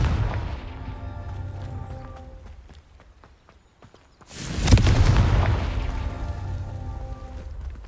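Confringo explosive spell in the Hogwarts Legacy video game: after a stretch of quiet crackling game ambience, a sudden loud blast erupts midway, then fades into a lingering rumble.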